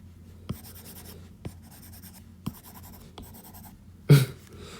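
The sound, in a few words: erasing handwriting on a board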